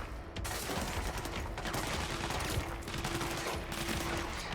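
Gunfire in the video game Control: a dense, continuous fusillade of rapid shots, loud and steady throughout, with no talk.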